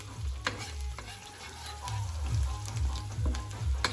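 Chopped onions for isaw sizzle and fry in a pan while being stirred, a steady close frying hiss broken by repeated scraping strokes of the spatula, with no one talking.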